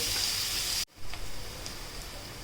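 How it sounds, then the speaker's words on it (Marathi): Onion softens and browns in a hot pan with a steady, close sizzle that cuts off abruptly, leaving a quieter fainter frying hiss and a few light pops. "नरम होईपर्यंत कांदा शिजवून घेणार आहोत आपण कांदा पूर्णपणे शिजवून घेऊयात"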